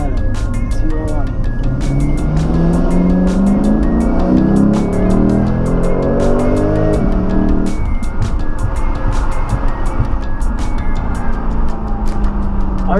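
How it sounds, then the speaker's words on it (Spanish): Lexus GS F sedan's naturally aspirated engine while driving, a loud sustained engine note rising in pitch through revs, then shifting and settling, with road noise and someone talking over it. "El sonido me encanta. Para mí no hay nada como motores aspirados."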